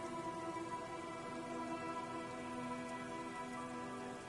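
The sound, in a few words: rain in the video game Disco Elysium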